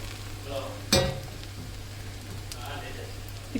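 Snake gourd sautéing in gingelly oil, a soft steady sizzle with one sharp stirring clatter partway through, heard close and fairly quiet.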